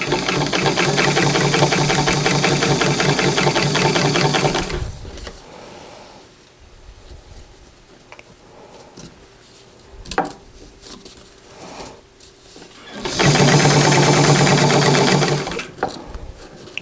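Sewing machine stitching bias tape onto a skirt, two loud steady bursts of rapid mechanical whirring close by, separated by a quieter stretch of fabric handling and small clicks.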